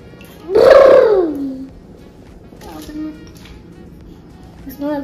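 A toy elephant from a bath bomb gives one loud, rising-and-falling electronic trumpet call lasting about a second, followed by fainter chirpy toy noises.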